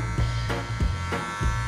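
A Wahl cordless hair trimmer buzzes near the ears while blending a pixie cut with the corner of its blade, its steady hum broken by a few short rhythmic swipes through the hair.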